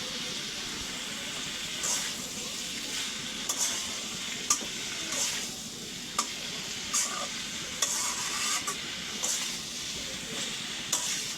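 Potato and tomato fry stirred in a pan, a soft steady sizzle punctuated by repeated sharp scrapes and taps of a spatula against the pan at an irregular rhythm, close and moderately quiet with no talking.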